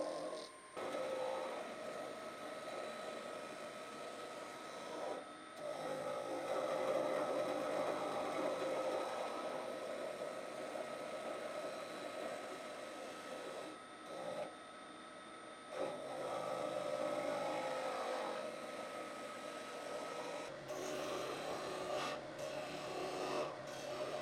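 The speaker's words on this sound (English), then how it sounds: "Now that I have it round, I'm using a skew to make a tenon so that I can mount it in my 4-jaw chuck." Wood lathe spinning a burl box blank while a skew chisel cuts a tenon, giving a steady close scraping rasp with a sustained hum, briefly pausing and resuming a few times.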